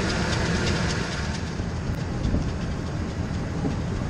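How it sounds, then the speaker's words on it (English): A 5.4 liter Triton engine idles with a steady mechanical drone, a faint rapid clicking or ticking from the serpentine belt running through the hum without pause. "You hear that odd noise? Kind of clicking or ticking. I'm guessing that's a serpentine belt."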